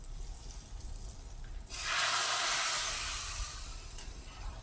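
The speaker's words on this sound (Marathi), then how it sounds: "आता ही फोडणी याच्यात टाकून घेऊया." Hot oil tempering with red chilli powder is poured into cooked dal, bursting into a sudden loud hiss that swells and slowly fades over a few seconds.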